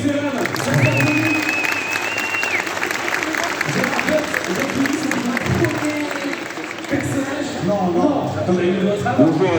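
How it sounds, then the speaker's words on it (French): A convention audience at a panel applauds with dense, sustained clapping that fills the room, loud and close, while a voice talks over it and a brief whistle-like tone rises partway through. "Ça s'applaudit, messieurs, dames."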